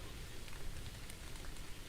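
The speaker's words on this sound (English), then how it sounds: "That sounds like rain." Steady rain pours down in the island survival game The Last One Left on The Island, a dense, even hiss of drops hitting surfaces, continuous and fairly close with no voices.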